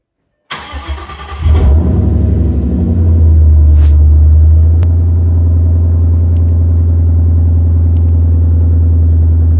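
A car with a newly installed Exedy Mach 500 clutch and Steeda Tri-Ax shifter starts up loudly, then settles into a deep, steady idle and a sustained engine rumble, close and alone.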